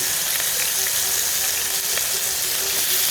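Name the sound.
frying pork sticks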